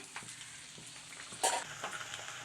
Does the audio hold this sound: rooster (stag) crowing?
no